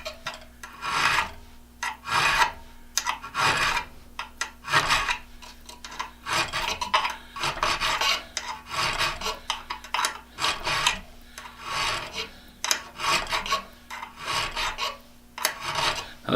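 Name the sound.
filing an Irwin/Jennings style auger bit to sharpen it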